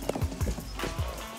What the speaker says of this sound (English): This is Harry, he's my young rider horse.